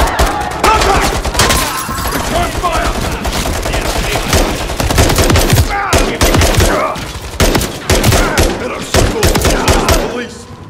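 Dense, continuous gunfire from a Call of Duty: Modern Warfare 3 campaign firefight, with rapid automatic bursts and sharp cracks that run nearly unbroken at close range, a voice briefly audible beneath.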